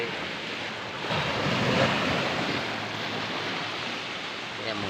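Strong sea waves churn during Typhoon Kristine, a continuous surging roar with wind buffeting the microphone, swelling midway, while a person speaks briefly.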